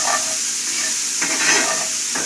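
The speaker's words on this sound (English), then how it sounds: "we're just gonna add the onions and garlic in. Just let that wilt down a little bit." Onions and garlic sizzle in a hot pan for a stuffed lobster filling, a steady close frying hiss with brief stirring scrapes, no voices.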